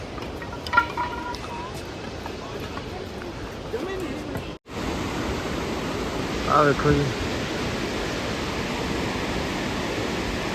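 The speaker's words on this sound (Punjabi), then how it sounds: "ਪਾਣੀ ਦਾ ਵਹਾਅ ਕਿੰਨਾ ਤੇਜ਼ ਆਵਾਜ਼ ਬਹੁਤ ਆਉਂਦੀ ਪਾਣੀ ਦੀ" Loud, steady rushing of a fast-flowing mountain stream on the Hemkund Sahib trail roars without a break, with someone briefly speaking over it; the noise cuts out for an instant midway.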